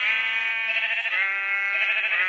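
Sheep bleating in a farming video game, one long sustained bleat of several overlapping voices held for a couple of seconds, loud and close with no talk over it.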